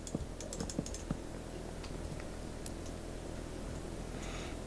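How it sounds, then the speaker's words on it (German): Quick, faint clicks of a computer mouse and keys tap during Minecraft play, a scattered burst of close ticks early on that thins out over a low background hum, with no talking. "Ich höre schon, wie er die ganze Zeit auf der Maus klickt."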